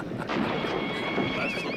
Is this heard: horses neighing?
yes